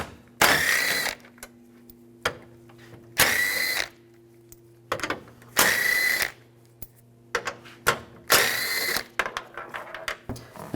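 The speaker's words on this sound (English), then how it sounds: "Use a 10mm socket." A ratchet with a 10mm socket backs out screws on a 2007-2013 Chevrolet Silverado headlight area, giving four loud bursts of rapid clicking, each about a second long, separated by quieter pauses with light handling noises.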